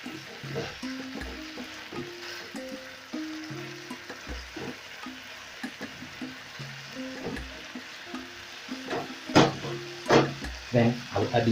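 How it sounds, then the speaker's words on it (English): Gizzard pieces and their collected juices going into a pan of hot sauce, a soft steady sizzle broken by louder stirring and scraping bursts toward the end. "I'll go in with my pieces of gizzards as well as the juices that have been accumulated"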